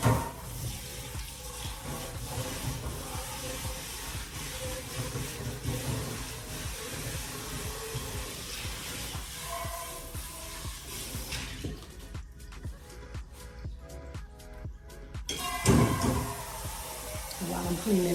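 Tap water runs steadily into a crock pot in a home kitchen, a continuous splashing rush that stops abruptly near the end, followed by a brief louder splash.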